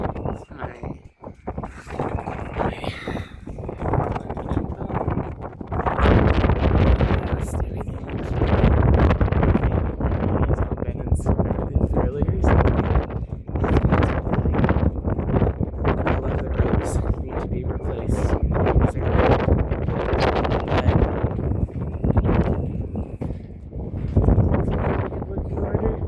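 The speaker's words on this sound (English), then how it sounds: "It's windy as shit right now." Strong wind gusts buffet the microphone on the deck of a 1969 Luders 36 sailboat. The roaring rumble is loud and continuous and swells in gusts throughout, with a voice speaking under it.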